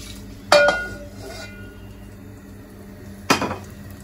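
A cooking pot is set down on a gas stove with a sharp metallic clank, followed a few seconds later by a second clank, both close against a steady low burner hum.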